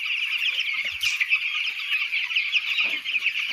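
Twelve-day-old broiler chicks in a newly built poultry farm peep continuously in a dense, loud chorus of overlapping high chirps, close and unbroken throughout.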